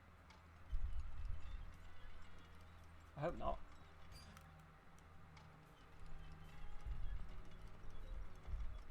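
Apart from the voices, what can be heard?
footsteps in video game Deathloop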